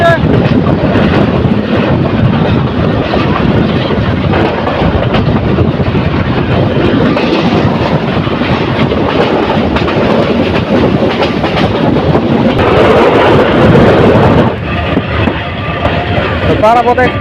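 The Parabat Express rumbling along the tracks close by as it enters Shaistaganj railway station, loud and continuous with a rhythmic rattling of wheels, the roar shifting slightly toward the end.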